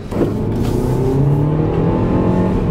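A Hyundai Getz hatchback accelerating hard at around 80, the engine note rising steadily and loud from close inside the cabin, with road and wind noise underneath and no talk.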